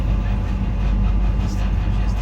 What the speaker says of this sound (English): And then if you look ahead, it's the cement train.